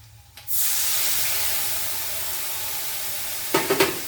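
Soaked spice paste hits potatoes in a hot pan with a sudden loud whoosh of sizzling that settles into a steady, close hiss. A few utensil clinks and scrapes come near the end.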